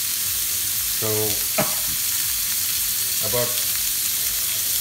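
Beef shish kebabs sear in a hot pan with a steady, close sizzle that runs the whole time, and a few brief spoken words sit over the frying.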